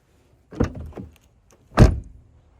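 Door of a retired police Dodge Charger opening and shutting after a new latch mechanism was fitted, giving two close, solid thunks about a second apart with a brief rattle between them.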